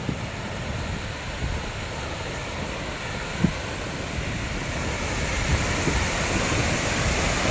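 Roaring River Falls waterfall on a hiking trail gives a steady, broad rushing roar, unbroken and fairly close, with slight wind buffeting and a few faint knocks.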